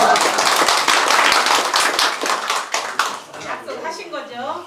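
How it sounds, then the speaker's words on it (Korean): A group claps together at an outdoor village gathering with a city mayor, steady close hand claps for a few seconds that fade as voices take over and talk continues. "박수 좀"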